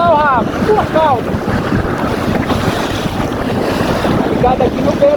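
Strong wind roars across the microphone on a small single-handed monotype sailboat at sea, a loud continuous gusty rush with water noise beneath and faint high tonal squeaks at the start and end.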